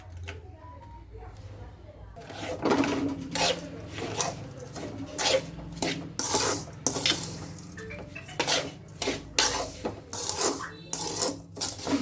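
A rava laddu mixture with cashews and raisins is stirred in a pan, a spoon scraping and clinking against the metal in repeated bursts, close and fairly quiet, while a voice talks over it.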